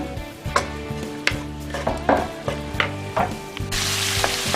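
Onion, capsicum and green chilli frying in a pan, a steady sizzle with repeated clinks and scrapes of stirring against the metal, close and fairly loud, the hiss swelling near the end, with no talking.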